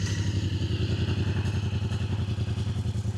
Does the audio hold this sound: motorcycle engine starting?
yes